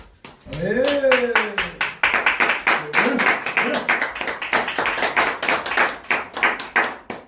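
An audience at a church youth gathering claps steadily and energetically after a speech, a dense run of sharp handclaps that continues throughout, with a brief voice near the start.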